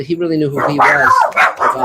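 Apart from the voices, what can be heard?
dogs barking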